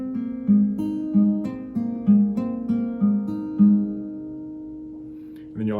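Steady fingerpicked acoustic guitar notes in a repeating pattern, the opening of a song, ring out clearly and close, then the final chord sustains and fades before a brief voice.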